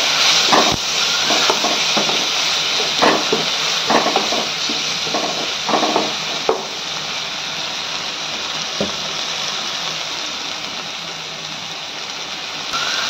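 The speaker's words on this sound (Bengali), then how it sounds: "দিয়ে ভালো করে মশলাটাকে নেড়ে চেড়ে কষিয়ে নেব" Red chili powder and turmeric masala being stir-fried in a pan for chana dal, a loud continuous hiss with repeated scraping clinks from the spatula stirring against the pan.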